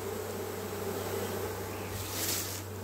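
A honeybee swarm entering a hive between the combs, producing a steady, continuous buzzing drone that holds at an even level throughout, with no talking.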